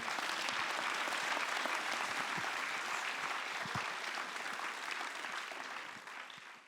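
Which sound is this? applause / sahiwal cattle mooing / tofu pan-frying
applause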